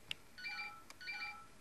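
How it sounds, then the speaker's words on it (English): A telephone rings quietly behind a FIFA 13 gaming session, two electronic warbling rings separated by a short pause, with faint clicks between them. "Apologies about the phone ringing"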